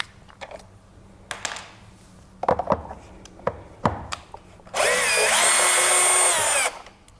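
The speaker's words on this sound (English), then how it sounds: "you unscrew these screws." A power screwdriver whirs loudly and steadily for about two seconds, backing out screws on an accessory after a few scattered clicks and handling knocks.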